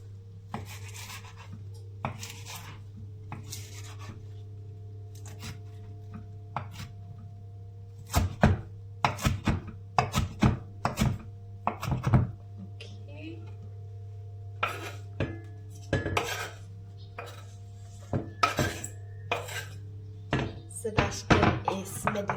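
A knife chops food on a board during home cooking by the Oslo fjord, starting sparse and turning into clusters of crisp knocks over a constant low hum, with quiet talk now and then.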